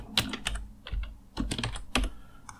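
Quick, close keystrokes on a computer keyboard as JavaScript code for a Snake game is entered on a Raspberry Pi, several clustered bursts of clicky taps, fairly loud and with no voices.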